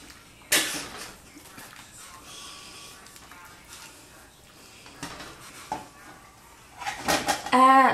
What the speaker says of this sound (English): Stir your pasta or it will stick together.